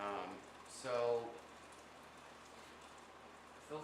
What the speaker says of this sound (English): I gotta put like a microphone here so everybody can listen to the rain.